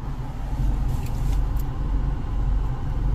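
A car engine gives a steady, close low rumble as a family climbs in, with no talk over it.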